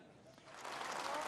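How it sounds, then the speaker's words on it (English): Polite applause at a Tory party conference, soft clapping swelling gradually over a moment, heard from a distance in a large hall. "There was polite applause that didn't quite see him off the stage"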